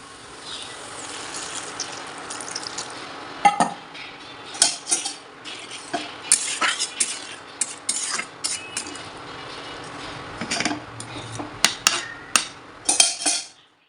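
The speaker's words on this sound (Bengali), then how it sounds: "সমস্ত যা বাসন কোসন হয়েছিল সেগুলো এখন ধুয়ে নিচ্ছি" Dishes and pans being washed: clinks and clatters of metal pots and plates against running water, irregular knocks close by with no talk.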